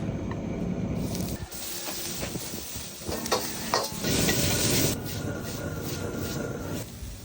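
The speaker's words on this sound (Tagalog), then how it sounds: "Edis tayo ng kalan, rektahan na, konting butter." Butter sizzling hard in a hot carbon steel wok on the stove, a steady loud hiss with stirring scrapes and a few brief surges.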